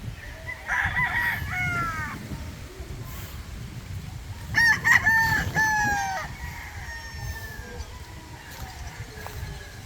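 Farm roosters crow twice, each crow loud and close, over a steady bed of background noise and occasional clucking from the flock of young chickens.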